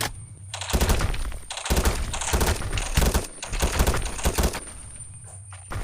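Rapid gunfire in a Roblox shooter styled after Call of Duty, loud bursts of automatic shots coming in several clusters with brief gaps between them and no talking over them.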